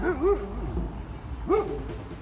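A dog barks twice in a park, sharp yips about a second and a half apart, fairly close and clear over low background rumble.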